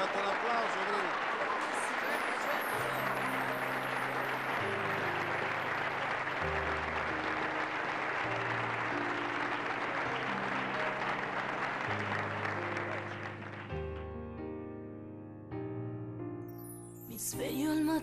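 An audience applauds during a TV interview segment as steady, dense clapping under a sustained musical backing with a bass line, fading near the end as the music shifts.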